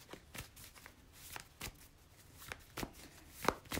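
Tarot cards are shuffled in quiet, close riffles and soft slaps that come in irregular bursts, with no talking.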